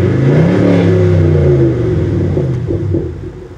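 A 2012 Chevrolet Camaro 2SS V8 revs loud and close, its deep rumbling engine note rising then settling as it winds down, no voices over it.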